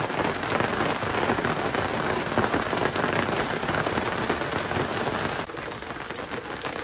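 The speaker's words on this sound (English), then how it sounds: "We just had a nice little rain." Rain falls as a steady, dense patter on nearby surfaces, holding a constant level with no voices over it.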